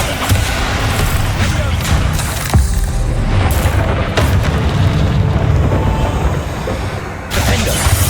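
A Bombarda blast spell bursts in Hogwarts Legacy amid a dense, continuous wash of game combat noise, with deep booming thuds and sharp cracks layered over a steady low rumble, loud throughout.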